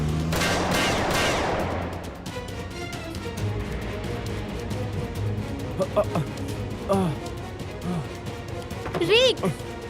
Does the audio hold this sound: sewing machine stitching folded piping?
no